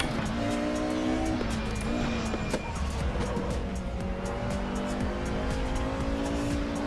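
A race car engine drones loudly and steadily through a lap in the RaceRoom racing game, its pitch climbing and shifting through gears with brief tire squeal, and no talking.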